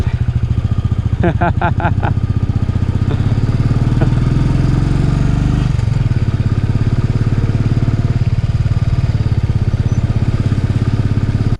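A Royal Enfield Bullet motorcycle on the road from Manali to Jispa gives a loud, steady engine thump with rushing wind, while a voice speaks briefly over it.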